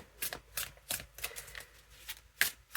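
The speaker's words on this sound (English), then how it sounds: "we're just shuffling" Tarot cards being shuffled by hand, crisp riffling bursts repeating in an uneven rhythm, close and fairly quiet with no talking.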